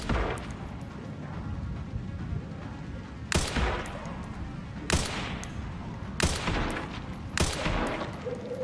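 Rifle fire in a video game: four sharp, loud single shots spaced roughly a second or more apart, each cracking out over a low rumbling game ambience.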